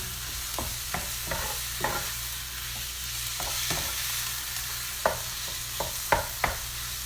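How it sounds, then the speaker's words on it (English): Ground beef browning in a pan over high heat, with a steady sizzle under repeated scraping and stirring strokes from a utensil, the strokes arriving in irregular clusters. "you're going to want to cook these two together until your meat is brown and it's no longer pink"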